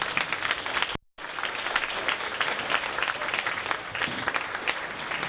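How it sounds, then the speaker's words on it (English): An audience at a Tibetan Thanksgiving lunch applauds Sunday school children, with sustained clapping from a crowd that drops out for a moment before picking up again. "Please give them a round of applause."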